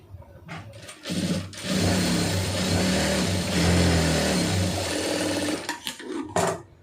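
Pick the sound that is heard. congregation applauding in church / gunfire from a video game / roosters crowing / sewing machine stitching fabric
sewing machine stitching fabric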